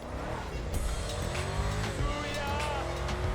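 Pfister Astron sports car driven in GTA Online, its engine a steady, close roar with brief tire squeal and skidding layered in, a voice talking over it.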